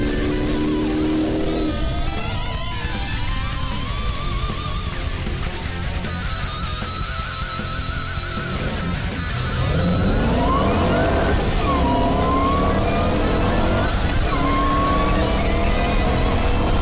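Shelby Super Snake and Challenger cars run 0 to 100 to 0 mph: loud sustained engine roar climbs through rising gear sweeps, then drops away as the cars brake, with continuous broadband road and wind noise throughout.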